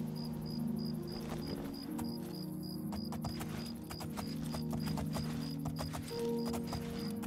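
Steady clip-clop of horse hooves in a regular trotting rhythm in The Elder Scrolls Oblivion at night, with chirping insects and a faint high tone in the background.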